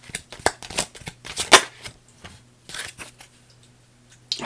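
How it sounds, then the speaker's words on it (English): A deck of tarot cards shuffled and drawn during a reading, with crisp riffling flutters and soft slaps in a few close, uneven bursts and no speech. "we'll get a connecting card with this too"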